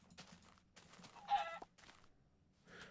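Chicken clucks in Minecraft Beta 1.7.3: a short burst of blocky clucking near the middle, moderately loud over faint game background, with no talking.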